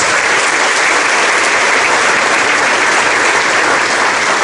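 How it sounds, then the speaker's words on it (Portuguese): A church congregation applauds loudly and continuously, a dense wash of many hands clapping together with no pauses. "Palmas para Jesus."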